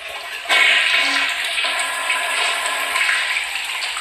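Metal toilet flushing in a Roblox game, a loud sudden rushing swirl of water that starts abruptly and keeps pouring steadily close by, with no talk over it.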